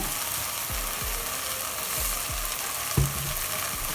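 Potatoes and leeks sizzle and fry steadily in a pot, with a few soft stirring scrapes and a brief clink over the constant close crackle.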